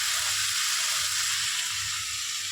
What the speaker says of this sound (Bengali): এবার ভালো করে মশলার সাথে চিকেনটাকে ভালো করে কষাতে হবে।